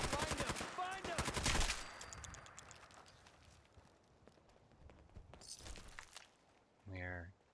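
Splatter cannon fire in the video game Fallout 4, with a rapid, loud burst of repeated shots at the start, a quieter stretch, another burst of shots later, and a short tonal sound near the end, with a voice heard in places.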